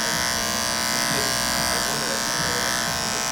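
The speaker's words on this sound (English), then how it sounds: "you feel like the clipper's gonna take too much" Close, continuous buzzing of an electric beard clipper trimming a beard, a steady motor drone with slight texture changes as it cuts, with no talk.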